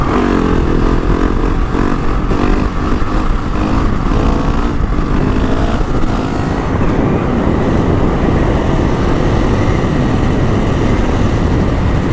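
A GasGas ES 700 motorcycle engine roars loudly in 4th gear, the pitch climbing and surging as the throttle opens, heard up close with heavy wind noise and no pause.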